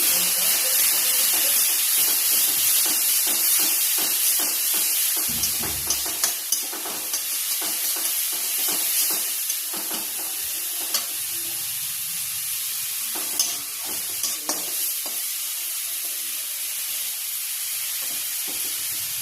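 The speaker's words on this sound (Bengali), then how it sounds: "এখন যে গুঁড়ো মশলাটা দিয়ে দেব। জল দিয়ে একটু গুলে নিয়েছি।" Powdered spices mixed with water hit hot oil with fried onion, tomato, chili and garlic, producing a continuous loud sizzle and hiss with intermittent stirring clatter for around twenty seconds.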